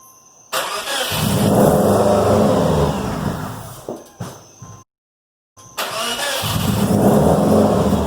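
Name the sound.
supercharged Subaru EJ257 engine starting for first time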